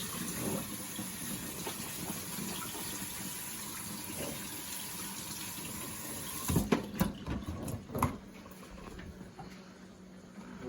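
Water runs from a kitchen sink tap over canned beans being rinsed, a steady soft gushing and splashing with brief louder clattering spurts as the can or strainer is moved, fairly quiet and without speech.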